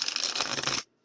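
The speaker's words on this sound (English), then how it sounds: "Oh, they shuffle, darling. They shuffle real easy." A deck of new, sturdy oracle cards is shuffled close by in a quick burst of crisp riffling and scratching that cuts off sharply.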